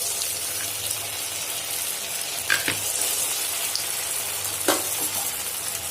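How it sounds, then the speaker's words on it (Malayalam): Vegetable bread rolls frying in hot oil in a pan over medium flame, giving a steady close sizzle with a couple of brief crackles and pops. "ഇനി നമ്മൾ തയ്യാറാക്കി വെച്ചിരിക്കുന്ന ബ്രെഡ് റോള് ഇതിൽ ചേർത്ത് കൊടുക്കാം."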